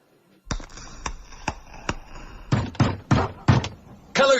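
Someone pounds on a door in a police drama: a sharp lone knock, then a run of single heavy thuds, then a cluster of loud rapid blows near the end.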